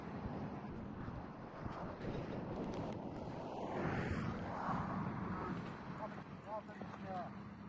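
Gusty wind buffets a DJI Avata 360 drone in flight outdoors, a steady loud roar of rushing air across the whole stretch, with a faint whine and talking under it.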